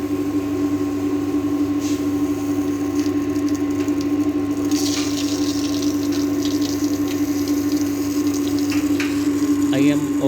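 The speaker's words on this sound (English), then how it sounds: "I am opening this valve a little bit so that the flow, the tank will be filled much quicker." Water runs steadily through a pipe friction apparatus in a lab, a constant pump-like hum and flowing rush with a tonal drone, continuous and fairly loud throughout, with faint background sounds and occasional clicks.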